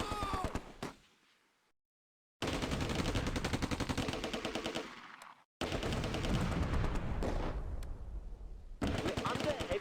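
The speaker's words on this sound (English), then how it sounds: "We're under heavy fire." Heavy, rapid gunfire from the Close Combat A Bridge Too Far battle at Arnhem: dense bursts of machine-gun and rifle shots ring out in long sustained volleys, broken by short pauses.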